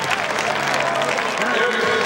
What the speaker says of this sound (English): the fans appreciate number 11's effort as they stand and applaud